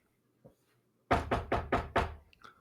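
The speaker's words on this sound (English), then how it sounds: "knock on the door" Knocking on a door: four firm, evenly spaced knocks, close and loud, following a faint tap, in an otherwise quiet space.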